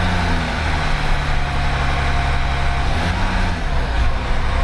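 A Land Rover engine runs steadily at low revs with a deep, throbbing idle and slight wavering in pitch as the speed sags below about 1200 RPM, loud and close, with no talking.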